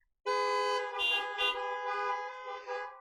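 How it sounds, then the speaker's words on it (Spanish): A car horn blares in one loud, sustained honk with a few brief swells and dips, close and unaccompanied by talk, as drivers sound their horns in response to a preacher's call. "¿Puedes decir gloria a Dios tocando tu bocina?"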